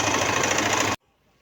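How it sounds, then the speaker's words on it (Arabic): A sewing machine stitches all the way around a piece of fabric for a Ramadan khimar, running in a steady, loud, close mechanical whir for about a second before it stops dead into silence. "ها هي كاع دورت عليها بالماشينه"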